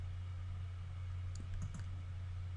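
A computer mouse clicks a few times in quick succession while values are picked along a curve-tracer trace, soft and close over a steady low electrical hum, with no talking.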